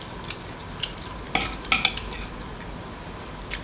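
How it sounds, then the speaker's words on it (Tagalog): Gravy stirred in a pan alongside fried chicken, with a soft sizzle under a few clinking spoon scrapes against the metal, close and moderately loud, no speech. "Gawa tayong gravy."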